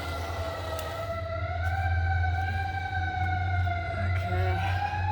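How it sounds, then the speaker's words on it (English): Emergency vehicle sirens wail outside with rising and falling tones, fairly loud and steady over a low engine rumble throughout, with no talking. "Now we got the sirens."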